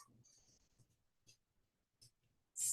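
Handwriting with a pen or marker, faint scratchy strokes that come in short bursts separated by quiet pauses, and then a sharper, louder scrape at the very end.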